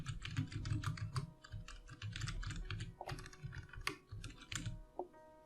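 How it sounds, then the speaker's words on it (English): Steady, close computer keyboard typing, rapid key clicks in an uneven rhythm with a few heavier keystrokes, no talk. "I'm going to type out my signature."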